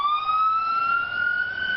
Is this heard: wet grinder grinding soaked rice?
no